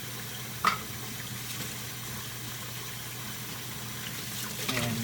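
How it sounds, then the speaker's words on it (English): Tap water runs steadily as a glass sprouting jar and its lid are washed and rinsed in a sink, a continuous close splashing hiss with a brief knock near the start. "Give them both a good wash"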